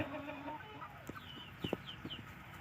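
Three-month-old chickens cluck softly in a coop on a farm, a few short calls rising over steady background hum, fairly close with no talking.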